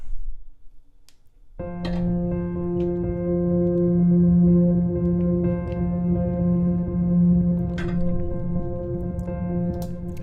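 A dark, soft-stick Noire piano chord processed through a particle engine on the Just Dark tonal piano noise preset enters after a short pause and holds as a steady, droning pad-like tone with faint textural flickers, sustained to the end.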